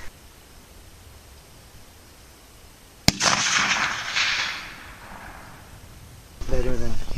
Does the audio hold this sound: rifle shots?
yes